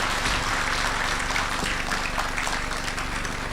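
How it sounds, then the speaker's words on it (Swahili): Audience clapping for Dr. Kweka at the end of a talk during an engineering technician day event in Diamond Jubilee Hall, a dense wash of applause lasting a few seconds. "Makofi mengi kwa Dr. Kweka"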